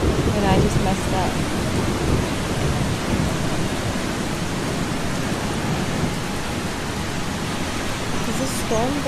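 A thunderstorm in the video game Eastshade pours down as a dense, steady hiss of rain with low rolling rumbles beneath, with a voice briefly heard at the start.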